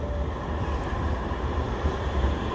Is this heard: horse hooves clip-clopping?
no